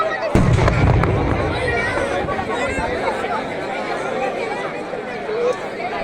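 A fireworks display in Móstoles, with a sharp burst near the start followed by crackling and rumbling under a crowd's constant chatter and nearby voices throughout.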